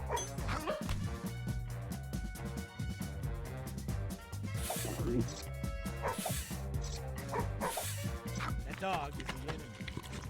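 A dog barks and yips in the Madagascar Escape 2 Africa video game, with short repeated barks over busy game music and effects, and a person talks at times.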